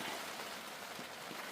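Steady, dense rain patters on a tarp shelter at a wet campsite, wind-driven from the front, forming a continuous close hiss with no voices.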